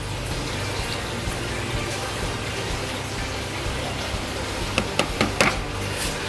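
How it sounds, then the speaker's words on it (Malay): Water poured over the top of a small vermicompost bin makes a steady gushing, splashing flow, close by, with a few sharper splashes near the end. "Dan selepas itu kita akan siram sedikit air di bahagian atas."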